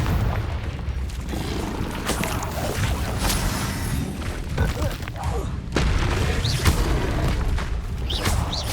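Booming magical blasts from the Confringo explosion spell in Hogwarts Legacy, heavy thuds and bursts recurring through a dense game soundscape with rumbling low end and continuous effects.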